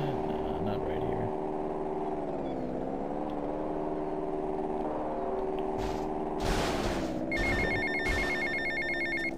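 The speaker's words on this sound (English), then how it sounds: "Oh, we got a phone call." A telephone rings in Grand Theft Auto Vice City, repeated electronic bell tones cutting in over a steady engine drone near the end, with talk under it.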